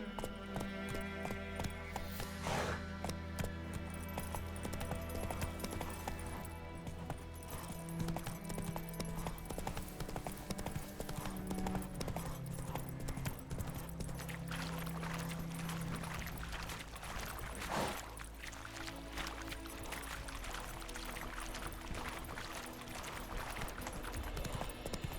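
Horse hooves gallop steadily in The Witcher 3, a continuous rhythmic clip-clop over a layer of game music that carries on throughout.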